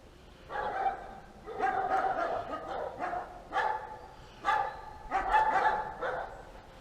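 Several dogs bark at bald eagles roosting in the trees, a string of clear, mid-distance barks in uneven bursts, with faint voices in the background.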